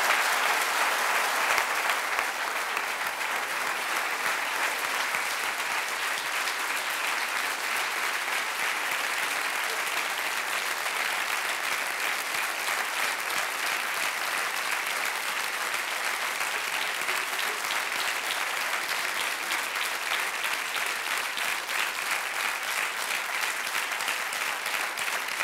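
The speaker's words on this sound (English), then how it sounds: "Let's all give him a round of applause." An audience applauds at a 2002 Nobel Laureate lecture in physiology or medicine, with dense, even clapping sustained throughout and no letup.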